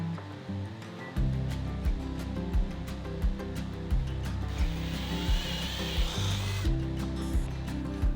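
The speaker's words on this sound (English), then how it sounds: "I use the drill bit and wiggle the drill side to side to bore out more of a hole." A power drill bores out domino holes in wood for a trestle tabletop's breadboard ends, a steady close whir with regular rhythmic pulses as the bit is wiggled side to side.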